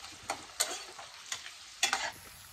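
Onions fry in a pan for a Bengali red chicken curry with potatoes, with soft sizzling under a few sharp, irregular scraping bursts as they are stirred. No one speaks.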